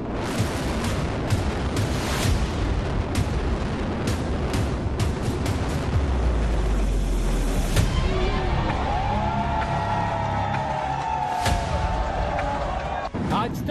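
Crowd noise and chatter fill a loud, rumbling scene as the Twin Towers building demolition explosion sends a deep boom rolling through, followed by lingering roar and scattered sharp cracks.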